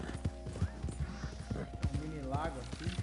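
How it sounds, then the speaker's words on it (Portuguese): Horse hooves clip-clop steadily at a walking rhythm in Red Dead Redemption 2 online, close and continuous, with a whinny and a voice talking over them. "Passar na água com o meu cavalo"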